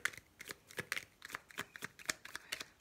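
A tarot card deck is shuffled over and over, its crisp riffling bursts coming in a quick, uneven rhythm, close and clear with no talking.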